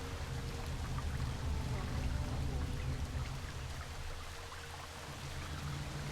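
A waterfall in a video game rushes as a constant broadband roar, steady and moderately quiet, swelling slightly and then easing, with no talking over it.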